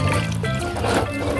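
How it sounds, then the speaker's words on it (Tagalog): A small amount of water splashes into a hot pan where chicken feet are cooking, a short close sizzle and trickle with bubbling underneath, no speech over it. "Lagyan ng konting tubig."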